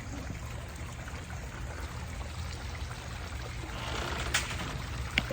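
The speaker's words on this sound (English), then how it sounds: "they now have a relaxing area right from their pool to the sounds of a waterfall" A backyard pondless waterfall spills into an eight-foot stream beside a pool, giving a continuous splashing rush of water that stays even and close, with a couple of faint knocks near the end and no talk.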